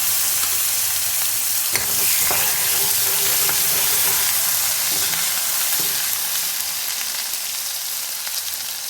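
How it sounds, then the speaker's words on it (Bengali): Cumin, mustard and chili paste fry in hot oil for hilsa curry, a steady loud sizzle with a sharp burst as the paste hits the pan, then continuous hissing and a few stirring clinks, no voices. "এবার জিরে সরষে লঙ্কা বাটাটা দিয়ে দিলাম।"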